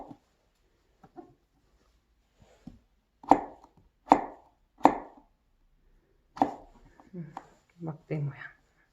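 A kitchen knife cuts a vegetable into 0.5 cm sticks on a board. Several crisp, close chops come in uneven clusters, with a voice talking between them.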